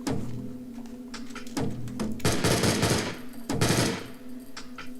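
Bursts of AK rifle gunfire from a video game, two or three loud broadband volleys with rapid automatic crackle, separated by short gaps of lower game background noise.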